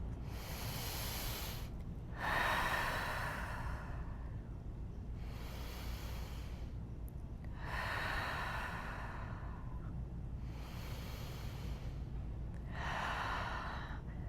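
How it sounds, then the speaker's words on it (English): Three slow, deep breath cycles in a beginner yoga pose, each a long airy inhale and hissing exhale, close and clear over a low steady hum. "let's take 3 breaths in any of those options."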